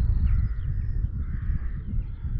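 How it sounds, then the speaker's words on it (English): Crows cawing over an open field in summer, several harsh calls at a moderate distance over a low, steady rumble of wind or outdoor background. "Let's watch those crows now going over there"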